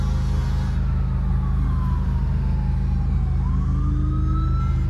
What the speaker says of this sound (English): I hear an ambulance.